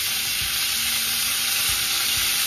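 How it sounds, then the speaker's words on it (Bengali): Loud, steady sizzle of pointed gourd (parwal) frying in a pan as pieces are turned, with a couple of dull knocks from the spatula beneath the close continuous hiss. "পটলটাকে একবার উল্টে দিই।"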